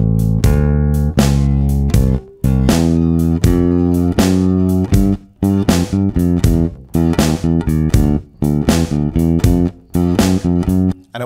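Electric bass runs a complete 12-bar blues turnaround over a drum groove, loud and close, with bouncing plucked notes and brief gaps between phrases, no talking.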